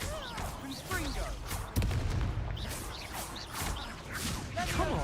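A Confringo blasting curse explodes in a wizarding video game, one sharp loud burst near the middle among a dense, busy battle mix of crackling spell effects and rumbling booms, with voices shouting throughout.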